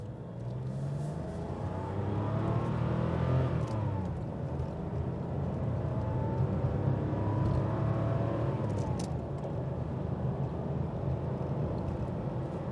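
A 1988 Porsche 911 Commemorative Edition on an open road, its engine droning steadily with a rising rev and constant road rumble and wind, close inside the cabin, no talk.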